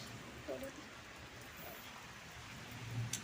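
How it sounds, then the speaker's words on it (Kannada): Light rain falls steadily in a village, a soft continuous patter across the whole stretch, with brief faint voices and small knocks now and then. "ಒಂದು ವಾರ ಆದಮೇಲೆ ಮಳೆ ಬರ್ತಾ ಇದೆ"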